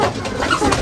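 A large fancy pigeon coos continuously at close range, a soft throaty warble with rising and falling pulses and no talk over it.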